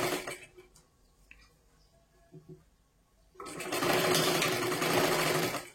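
A sewing machine runs in a steady continuous burst while stitching a 4-tuck blouse, starting after a few quieter handling sounds and holding at an even close-up level to the end.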